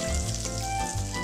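Butter and oil sizzle loudly in a hot pan while paneer butter masala is being made, a dense, continuous frying hiss heard close up with no voices.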